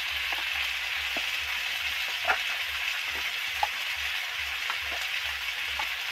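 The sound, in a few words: frying turmeric, chilli and spice powders while stirring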